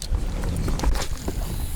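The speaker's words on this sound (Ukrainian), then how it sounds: "Гляньте, боковий вітер сильний." A strong side wind blows outdoors during a pike fishing session, low rumbling gusts buffeting the microphone in uneven surges with faint scattered knocks.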